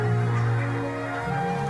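Geese in a flock at a Dutch nature reserve honk together in a loud, close, steady clamor of overlapping calls, with no talking.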